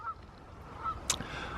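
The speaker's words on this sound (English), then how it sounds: "or is it geese?" Geese honking at a distance, a few faint calls rising briefly over a low ambient background in a cosmopolitan setting, with one sharper sound burst near the end.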